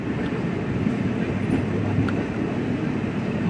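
A passenger train rumbles steadily near Chirala railway station, with a continuous low roar of wheels and carriages, loud and close, with no talk over it.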